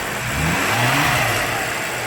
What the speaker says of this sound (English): Check out that engine.